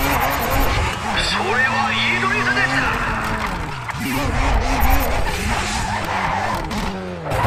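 A car drifts in the racing game GRID, tires squealing and engine droning steadily near and loud, while someone talks over it throughout.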